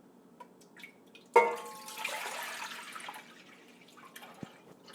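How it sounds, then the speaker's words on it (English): Jersey cow milk is poured from a container into a pot for mozzarella, starting with a sudden splash and settling into a steady close liquid gurgle that fades out. "so we are gonna pour this milk in the pot"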